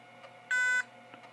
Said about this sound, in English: And computer's still beeping at me for whatever reason.